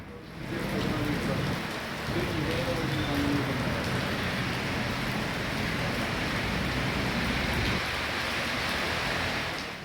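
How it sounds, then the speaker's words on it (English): Steady, dense rainfall patters on surfaces throughout, with a faint voice briefly audible beneath the hiss. "Rain, rain, rain, go away."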